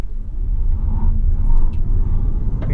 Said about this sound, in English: You can hear the car fighting for grip, but it gets going and honestly pulled pretty strong.